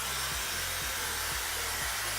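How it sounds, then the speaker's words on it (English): Blow dryer drying hair for a blow-out, a loud steady close whoosh with a low motor hum that wavers rhythmically as the dryer moves down the hair shaft, alone without talking. "the blow dryer always has to be going down the hair shaft"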